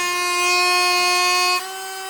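A HARDELL 12V cordless mini rotary tool with six speed settings spins freely, giving a loud, steady, high-pitched whine that drops to a slightly lower, quieter tone near the end.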